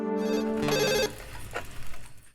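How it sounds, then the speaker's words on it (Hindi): A telephone rings with a bright electronic trill for about a second, then fades out, close and clear with no talking. "देखो जरा किसका फोन है।"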